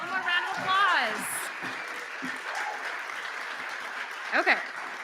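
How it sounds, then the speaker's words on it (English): An audience at a youth recognition celebration claps in a steady, moderate round of applause, with a voice speaking over it at the start and again briefly near the end. "one more round of applause"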